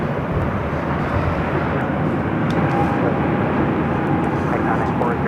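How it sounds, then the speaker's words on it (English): A Viva Aerobus Airbus A320neo jet rolls down runway 24 left at Los Angeles International Airport on its takeoff run to Monterrey, a loud, steady broadband engine roar that holds constant throughout. "Viva Aerobus Flight 623 rolling down 24 left, heading to Monterrey, Mexico, in an A320 Neo"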